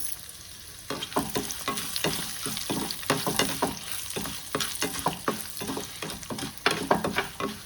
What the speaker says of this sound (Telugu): కరివేపాకు బాగా వేగాలండి